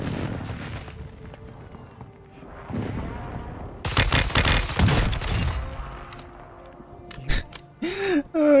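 Close-range gunfire in Warzone 2.0, a low-recoil weapon used in resurgence, bursts of shots and a booming blast around the middle, loud and near, with game ambience and a faint voice in between.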